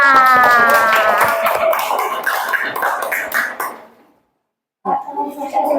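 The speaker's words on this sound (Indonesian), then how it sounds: "Tepuk tangan untuk kita semua." Children in a classroom clap their hands together in a burst of dense, lively applause mixed with voices, which stops abruptly, then a short spell of talking follows after a pause.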